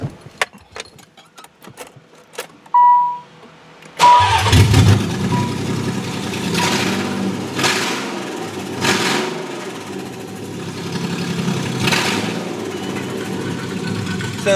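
Quiet clicks and a brief tone, then a Nissan 300ZX engine, exhaust not yet fitted, cranks and catches, settling into a steady rough idle that runs loud and close to the end.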